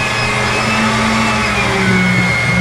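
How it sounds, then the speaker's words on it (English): A water pump runs in the water-cooled condenser setup of an ice cream machine, giving a loud, steady mechanical hum with a faint whine that holds unbroken for the whole stretch. "These pumps do not prime worth a crap"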